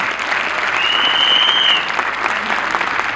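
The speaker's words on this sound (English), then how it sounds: "Can we have a big round of applause for my learners?" A school annual day audience bursts into loud, dense applause for young performers, continuous throughout with crowd murmur and a brief whistle-like tone over it.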